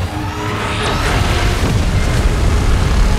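A beam blast from MechaGodzilla or Godzilla roars out loud and sustained, a dense rumbling wash of noise that builds slightly and holds for about three seconds without letup.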